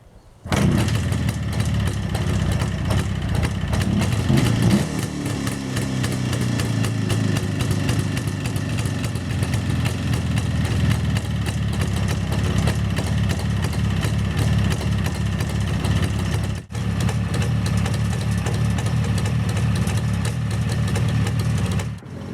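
A Jawa 350 motorcycle, revived after 12 years off the road, starts up and settles into a steady idle, its loud, continuous engine drone holding with one brief dropout.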